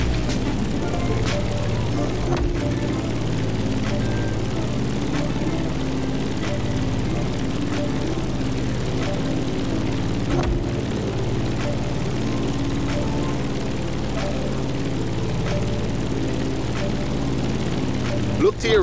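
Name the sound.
aircraft propeller engine climbing in The Crew Motorfest video game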